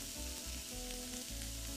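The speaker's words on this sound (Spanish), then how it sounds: "Vamos a echar la cebollita. Siempre tener las sartenes calentitas" Onion frying in a hot pan, a steady close sizzle with a few soft stirring bumps underneath.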